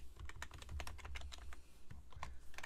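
Quick, uneven keystrokes tap on a computer keyboard while someone types text into a field. The clicks are close but quiet, with short pauses between bursts.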